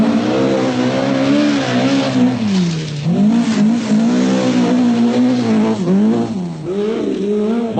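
Toyota Celica rally car on the 1981 Lombard RAC Rally, a loud, close engine note rising and falling steadily through gear changes with no talk over it.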